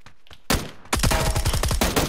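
Gunfire in the PUBG: Battlegrounds video game, a single shot followed by a dense, loud burst of rapid automatic fire that rattles on for over a second, close and harsh.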